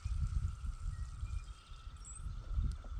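Water pours from a bucket onto freshly transplanted tomato plants on a farm, a rough splashing stream that swells and fades across the moment outdoors.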